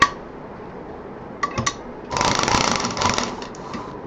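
A sewing machine stitches fabric for a homemade door mat, with a few short clicks first and then a close, steady whirring run of stitching lasting about two seconds.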